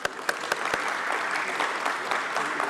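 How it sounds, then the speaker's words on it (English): A large audience at a company stock listing ceremony gives a full round of applause, with a few sharp close claps at the start before it settles into a dense, even roar. "Let's have a huge round of applause for all of them."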